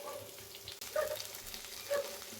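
Soft sizzling of onions frying in oil in a kadai for tomato-onion chutney, with a couple of brief metallic scrapes or stirs, quiet and close.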